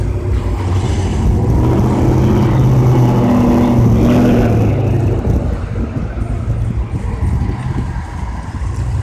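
A car drives off, giving a loud, steady low engine rumble close by that slowly eases and recedes toward the end.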